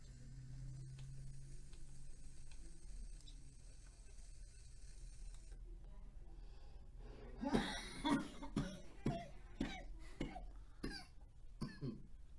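A man coughing after a strong vape hit during a cloud competition, a run of sharp hacking coughs starting midway, fairly faint, preceded by a quiet mechanical hum.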